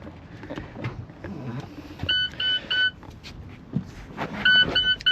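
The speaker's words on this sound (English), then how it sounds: "sorry for the loud beep" Loud electronic beeps from an Alfa Romeo 4C as the ignition is switched to accessory mode, two bursts of steady tones a couple of seconds apart over faint interior background noise.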